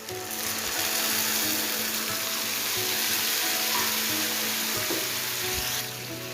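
Water poured into frying masala for a potato and tomato curry sets off a loud, close, continuous hissing sizzle that holds steady for several seconds before easing slightly at the end.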